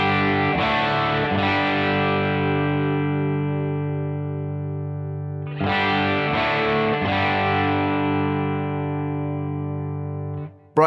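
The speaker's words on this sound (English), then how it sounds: "So the normal setting sounds like this." Electric guitar, a Telecaster, played through a Crazy Tube Circuits Hi Power overdrive pedal on its normal setting: two strummed distorted chords, each ringing out and slowly decaying, loud and alone.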